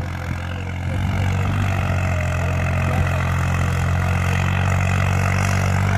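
A tractor engine labours in fourth gear, medium range, in loose sand, its steady low rumble running continuously and close throughout.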